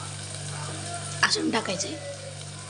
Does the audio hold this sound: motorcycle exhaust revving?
no